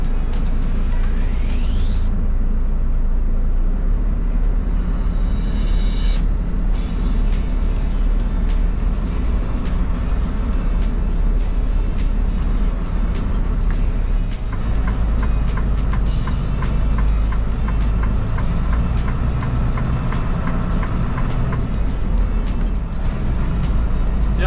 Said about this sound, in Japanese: 久しぶりに大きいトラック運転してるの